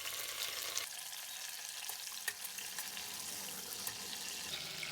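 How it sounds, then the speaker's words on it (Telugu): Bay leaves and mint fry in heated oil at the start of a chicken pulao, giving a steady, soft crackling sizzle throughout with a few faint ticks of movement in the pan and no talk. "ఇప్పుడు ఆయిల్ హీట్ అయిపోయింది ముందుగా ఇందులో రెండు బిర్యానీ ఆకులు వేసుకుందాము అలాగే కొంచెం పుదీనా"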